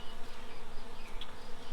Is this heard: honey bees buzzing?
yes